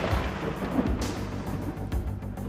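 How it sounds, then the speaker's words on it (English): A low roll of thunder rumbles during a storm, a faint, distant grumble with a soft wash of rain. "You may hear the roll of thunder and see the flash of lightning."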